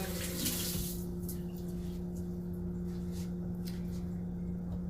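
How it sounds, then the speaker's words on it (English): Water runs steadily from a tap or is poured into a blender in a home kitchen during juice making, a soft continuous splashing rush over a constant low electrical hum, fairly quiet. "add the water."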